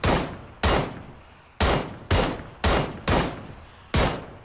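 Seven sharp gunshots crack out at uneven intervals in a PUBG match on PS4, each with a short decaying tail and nobody talking.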